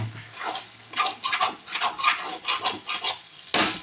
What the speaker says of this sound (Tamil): பாவக்காய் சிம்மில் வச்சு நல்லா வதக்கணும் ஃப்ரெண்ட்ஸ்